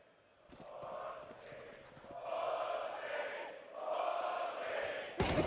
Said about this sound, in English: there's definitely a unique flavor to the Australian crowd